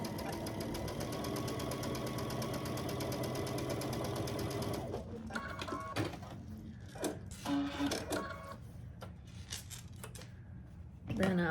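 A sewing machine runs steadily for about five seconds, stitching a quilt block seam at a quarter inch, then gives way to scattered clicks, rustles and handling noises close by.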